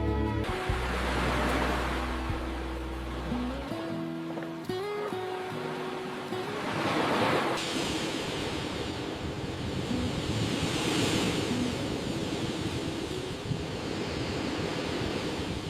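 Ocean waves at a remote Scottish harbour village with a breakwater: steady washing surf and wind make a constant broad hiss, partly under music at first and then alone.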